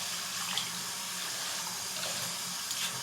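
Tap water runs steadily in a brief rinse of leave-in conditioner out of a synthetic wig, a continuous broadband splashing hiss at close range with no voices.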